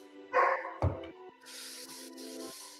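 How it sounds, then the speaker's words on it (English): A pet dog gives a couple of short, sharp barks close by, followed by quieter rustling and hissing movement in an indoor room. "That would be my dog. I apologize for my dog."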